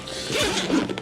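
A zip on a SW-Motech motorcycle tank bag is pulled open in one quick, close rasping run lasting about a second.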